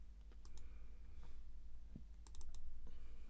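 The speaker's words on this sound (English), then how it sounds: "Now we'll click on Discover Units." Computer mouse clicks in access-control software, a few sharp, quiet clicks scattered across a soft hum, with a closer cluster of clicks near the end.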